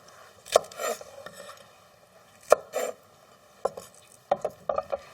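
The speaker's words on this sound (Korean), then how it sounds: "그냥 한 3, 4cm 이렇게 먹기 좋은 크기로 그냥 썰어주세요" A knife chops water dropwort (minari) into short pieces on a cutting board, sharp separate thuds in uneven bursts close by, some cuts coming in quick runs, with no talk.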